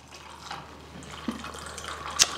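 Chilled water poured into a glass while making a fizzy lemon drink, a faint, steady trickle with a brief, sharper splash near the end.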